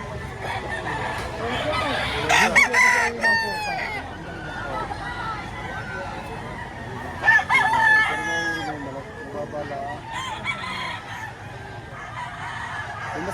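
Several gamecocks crow in bursts amid scattered clucking at a rooster auction in the Philippines, with a murmur of voices and crowd babble underneath throughout.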